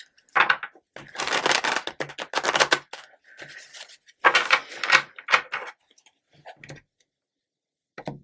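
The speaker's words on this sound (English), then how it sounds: "One more shuffle." Tarot cards being shuffled by hand, with several bursts of crisp riffling and tapping separated by short pauses, close and fairly quiet with no talking.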